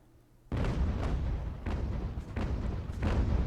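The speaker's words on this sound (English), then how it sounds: "Shells passing through the stern and hitting the Adamant" Cannon fire in a naval battle in the video game Ultimate Admiral: Age of Sail, a sudden loud broadside followed by a rolling series of heavy booms every half second or so, dense and continuous.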